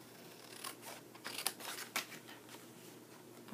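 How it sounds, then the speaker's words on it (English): Scissors snipping cardstock along score lines to form the flaps of an awning cookie box, a few faint, close crisp cuts spaced irregularly over a soft background. "We're going to cut up each one of these score lines to your first score mark."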